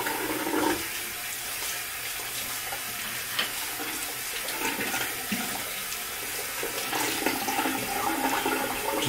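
Water runs steadily from a tap to dampen a cleaning towel, a continuous close hiss and splash with small fluctuations, no voices.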